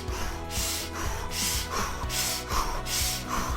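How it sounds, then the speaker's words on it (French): Rhythmic forceful exhalations in a fire-breath breathing exercise, about seven sharp bursts of air at a steady fast pace, close and loud, with no talking. "Soufflez."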